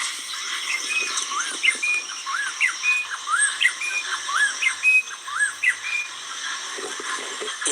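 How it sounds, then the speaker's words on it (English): A bird calls repeatedly outdoors, short whistled chirps in a steady rhythm over light background noise, fairly close and clear. "You hear that bird?"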